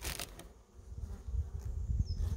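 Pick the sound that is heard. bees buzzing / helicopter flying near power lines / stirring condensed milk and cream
bees buzzing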